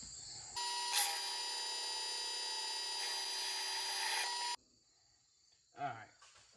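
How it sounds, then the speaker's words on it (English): Power drill boring a pilot hole into metal for a 3-point hitch on a King Kutter brush hog, a steady high whine for about four seconds before stopping, followed by a short voice. "maybe I should do a pilot hole"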